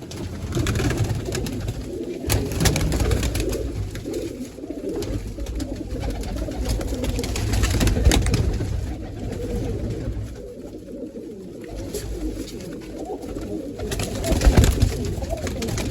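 Pigeons kept as a trained pair coo repeatedly in soft, low, throaty calls, close by against a steady background hum, with no talking.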